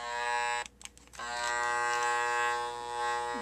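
Old Wahl hair clippers with flat-blade screws run with a loud, steady, rattling buzz, cutting out briefly for a moment before the noisy drone resumes.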